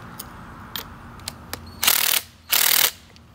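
A ratchet tightens a suspension nut on a Mk6 Golf being lowered: several quick isolated clicks, then two longer loud bursts of rapid ratcheting close by, with no talking.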